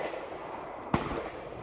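A single sharp gunshot cracks at an outdoor shooting range in Vermont, one brief report over a steady background of wind and ambient noise.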